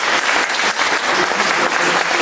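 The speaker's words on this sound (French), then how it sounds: "Et on applaudit bien fort." Audience claps loudly and steadily after a cap is presented as a thank-you, a dense continuous burst of applause with no speech over it.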